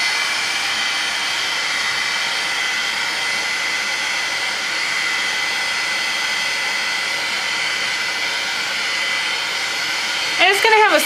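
A heat gun drying paint on an engraver box, a loud, steady whooshing blow that runs unbroken throughout, with a brief voice right at the end.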